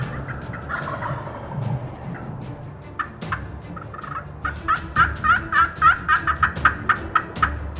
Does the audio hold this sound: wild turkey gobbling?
yes